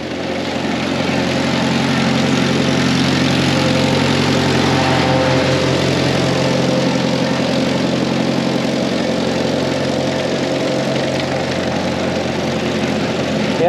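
Diesel-type engine driving a farm jaw crusher for field stones, held at full throttle, gives a loud, steady low drone with constant mechanical hum throughout and no talk.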